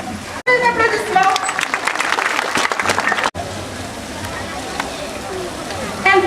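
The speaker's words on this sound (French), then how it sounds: "Des applaudissements." Audience at a sea lion show at Amnéville zoo claps and murmurs, a broad crackling wash of applause with crowd noise, briefly breaking off and resuming, with voices and outdoor ambience beneath.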